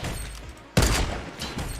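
Gunfire in the video game Fortnite, a single loud sharp shot about midway through, preceded and followed by steady game background noise.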